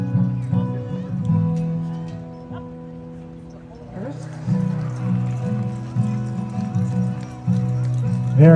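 Rhythmic clip-clop of draft horse hooves on a hard surface, a tandem hitch at a draft horse show, steady and fairly close, with voices and crowd noise running underneath.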